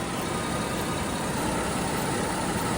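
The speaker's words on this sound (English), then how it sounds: "I'm just gonna let the car run for a few minutes to get the new oil in the engine" A 2011 Chevrolet Camaro V6 idles steadily just after an oil change, a constant close, even engine drone with no revving or change in pitch.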